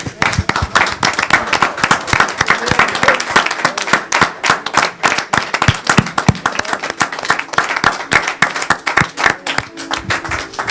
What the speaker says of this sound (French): On peut vraiment acclamer le Seigneur.